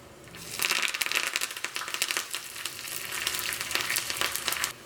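Curry leaves and shallots fry in hot coconut oil for a Vishu mango kichadi tempering, giving a close, steady crackling sizzle with dense spitting pops throughout.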